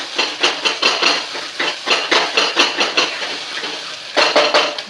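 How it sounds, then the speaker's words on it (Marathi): Ginger and garlic sautéed in oil in a pan for veg masala pulav, with a loud, rhythmic run of spatula scrapes and clanks against the pan over a frying hiss. "अद्रक लसूणला तेल सुटेपर्यंत चांगलं परतून घ्यायचं"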